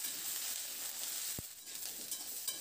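Vegetables being stir-fried in oil over a high-to-medium flame for a spinach dish, giving a steady, fairly quiet broadband sizzle with a single brief stirring scrape, no voices.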